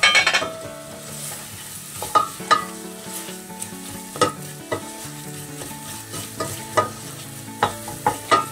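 Flour being stirred into gently sweated, glassy onions and garlic over a low flame, with soft scraping strokes and a steady quiet sizzle, punctuated by sharper clinks of the spoon against the pot at irregular intervals.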